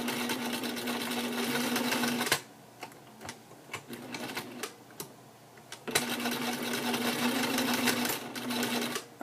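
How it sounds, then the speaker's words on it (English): A serger stitches elastic into a cloth diaper in two fast whirring bursts, separated by a quieter stretch of scattered clicks and handling noises. "Then I stitch over the very end of elastic"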